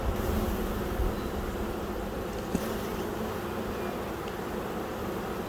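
Dense, steady buzzing from many honey bees during a hive inspection fills the whole clip, close and continuous, with no talking.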